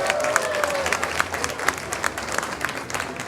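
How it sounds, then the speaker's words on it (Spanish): A crowd applauds with dense, steady clapping for several seconds, and a brief voice rises at the start. "¡Aplauso!"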